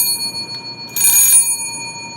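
A mechanical bell, an auction item, rings once in a single loud metallic strike that leaves a steady, sustained ringing tone hanging over faint background noise, with no talk.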